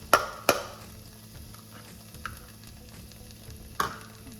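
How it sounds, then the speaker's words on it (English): Peppers and onions dropped into a hot pan for vegan chili, a soft continuous sizzle with a few sharp clacks of a utensil against the pan scattered through it. "in goes my cup of peppers and onions"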